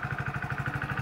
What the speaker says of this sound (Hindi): ओ एक ही किक में स्टार्ट होगी भाई, आइडियल कंडीशन पर इंजन साउंड सुनिए,